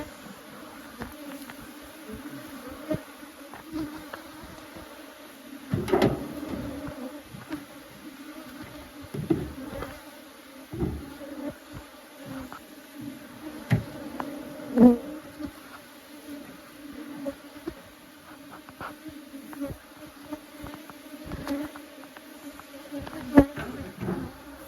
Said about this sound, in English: we don't want any bees flying in